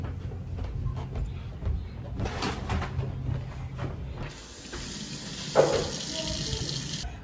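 A tap is turned on in a house and water starts running with a hissing spray that grows steadier, after some muffled movement and faint voices.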